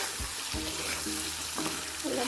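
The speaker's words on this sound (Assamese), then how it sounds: "মছলাখিনি আলুখিনি নোসোমোৱালৈকে মই ভাজি থাকিম" Boiled potatoes fry with salt, turmeric and chilli powder in a pan for fish curry, a close steady sizzle broken by several stirring scrapes and knocks, with a voice faintly behind.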